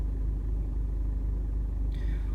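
A Peugeot 308 engine idles with a steady low rumble, even and continuous, with no speech.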